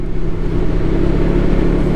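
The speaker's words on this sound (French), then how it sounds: "premier croisement avec une voiture" A car rumbles past close by, heard from a Can-Am Ryker on a road through vineyard plains near Beaucaire, a loud broadband engine and road roar that stays strong throughout the short clip.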